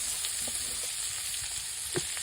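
Chewa fish frying in hot oil, a dense, steady sizzle that holds close and constant, with a few soft stirring or placement bumps along the way.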